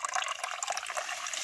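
Water runs steadily from a household supply tap, a close, bright rushing and splashing that fills the short stretch alone with no voices over it.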